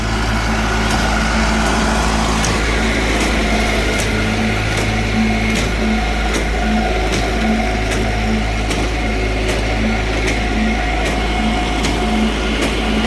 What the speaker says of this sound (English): Let's go take a look at Tim drilling.